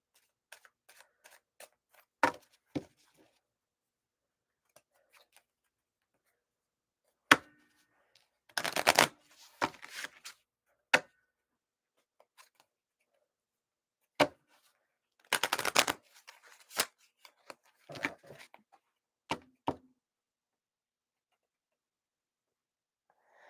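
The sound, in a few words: shuffling a deck of cards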